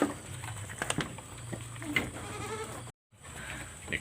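Goats in a morning pen eating tofu dregs, with scattered soft bleats, snuffling and shuffling close by, faint overall, with a brief gap of silence near the end.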